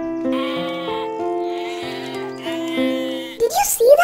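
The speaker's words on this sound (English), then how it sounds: "Yes, that's a sheep." Repeated sheep bleats, a wavering nasal cry sounding several times in a row, fairly close, followed by a brief rustling noise.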